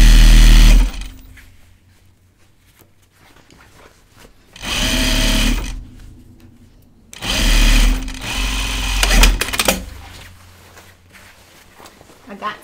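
A sewing machine topstitches across the bottom of a jeans pocket in three separate runs of steady, fast stitching, close and loud, with a voice talking in the quiet gaps between.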